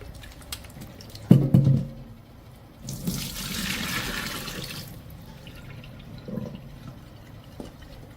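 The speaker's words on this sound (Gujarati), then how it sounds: "લીંબુને ધોઈ લઉં છું" Lemons are rinsed under a running kitchen tap, with a few short knocks and splashes early, then a two-second burst of flowing water and quieter trickling after it, fairly close and with no talk.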